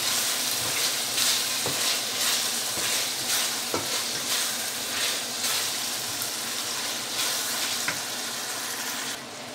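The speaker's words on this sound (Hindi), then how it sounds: "मुझे 15-20 मिनट हो गए तकरीबन कीमा भूनते हुए। आलू डाल दिए।" Minced meat keema with potatoes fries and sizzles in a pan, with a continuous crackle broken by regular knocks and scrapes of a stirring spoon, close and without talk.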